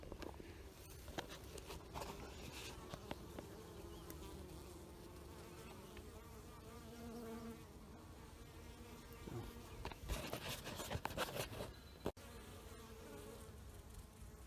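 Honeybees buzzing steadily around a newly installed nuc hive, many insects droning close by with some passing nearer and louder, outdoors with no talking.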